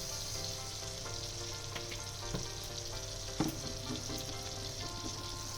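A low, steady sizzle of butter melting together with white oil in a pan, with a faint hum underneath and one brief clink near the middle; no voices.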